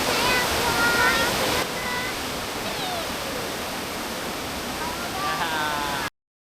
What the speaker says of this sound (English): Lots of waterfalls.